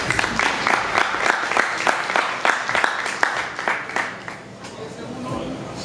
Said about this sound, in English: y'all get yourself a round of applause one time tonight.